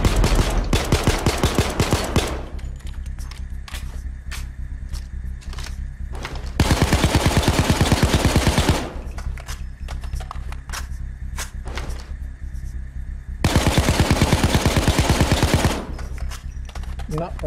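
Gunfire in the video game Payday 2, shots fired at a door in long rapid automatic bursts, loud and close, with louder dense volleys around the middle and near the end.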